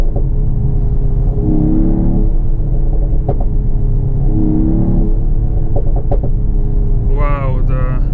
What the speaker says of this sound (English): Wow, the exhaust crackles are great.